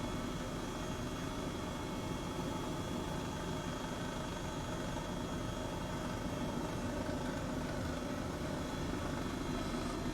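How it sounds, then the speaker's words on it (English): A jet flies low over Oslo in Flight Simulator 2020, a steady, loud, broadband engine roar with a continuous hum that holds unchanged throughout. "See someone flying really low with a jet above the city"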